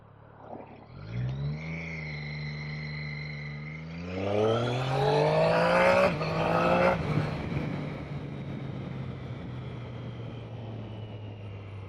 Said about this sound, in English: Engine braking incredibly smooth, so we'll drop down a second here, doing 30